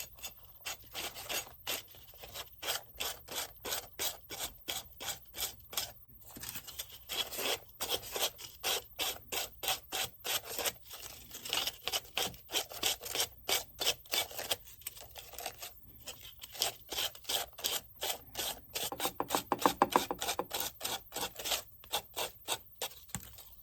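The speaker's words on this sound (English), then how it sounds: "Now, let's go ahead and smooth up these edges." The edges of a handmade DIY decor piece are smoothed by hand, with quick, rhythmic rasping strokes repeated steadily up close. The rubbing is quiet, and no one speaks.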